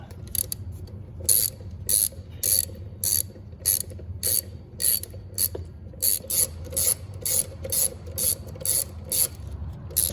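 Ratchet tightening bolts on the EGR valve of a 2005-2009 Ford Mustang 4.0L V6, rapid close clicking in short repeated bursts with brief pauses between strokes.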